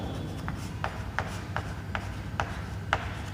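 Marker or chalk writing on a classroom board during a physics lesson, with short scratchy strokes repeating about every half second over a steady low hum, and no talk.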